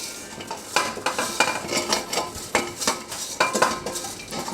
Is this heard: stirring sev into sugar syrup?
yes